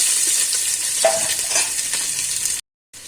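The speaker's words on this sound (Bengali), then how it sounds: "এবারে দিয়ে দেব পেঁয়াজটা" Steady, close sizzling of onions frying in hot oil with bay leaves and whole garam masala, with a light stirring scrape. The sound cuts out briefly near the end.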